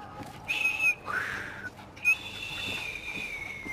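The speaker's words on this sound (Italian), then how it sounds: "Ho appena imparato a fischiare." Whistling by a character in the video game Assassin's Creed Syndicate, a few short clear whistled notes and a rising sustained tone, fairly close, with soft game background ambience underneath.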